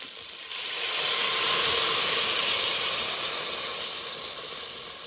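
A steady, loud hiss and sizzle of water poured into a hot pan of pork with taro leaves and ginger garlic paste, building quickly and holding for several seconds with no talking.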